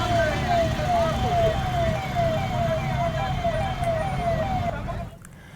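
Wailing siren of a fire brigade vehicle at a blaze, cycling steadily and loudly for about five seconds over road and crowd noise, then cutting off abruptly at the end.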